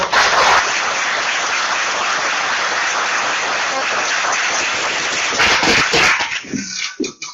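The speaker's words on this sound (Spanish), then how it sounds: "quiero que brindemos un fuerte aplauso de bienvenida al ingeniero" Welcoming applause from a conference audience for an engineer at a clean-energy financing talk, a dense steady wash of many hands clapping loudly for several seconds before thinning out and fading into scattered claps.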